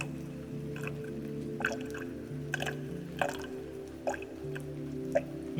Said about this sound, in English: People like the water sounds though, right?